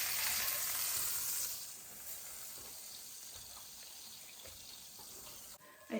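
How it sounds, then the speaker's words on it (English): Water poured into a hot pan after searing a pot roast hisses into a strong, steady sizzle that loudens at the start, then settles into a quieter bubbling hiss with faint scraping. "I added some water to this pan, and I just took a second to get all the bits off of there"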